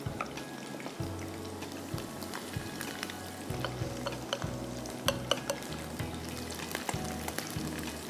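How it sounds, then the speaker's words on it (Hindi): Battered chicken pieces fry in a single layer in a pan with a steady bubbling sizzle, sharp spatters and pops, and a low rumbling burner hum underneath, nearby and moderately loud. "अब चिकन को उसमें डाल दिया, चिकन को मैं सिंगल लेयर में डाल रही हूँ और इसको हम करेंगे"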